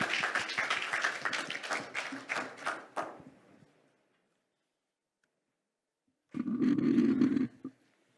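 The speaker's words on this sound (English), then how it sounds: "Please give her a big round of applause." Applause from a conference audience at a hydrogen and renewable energy event, a dense burst of clapping that fades out, then after a silent gap a shorter, louder roaring wash of sound returns.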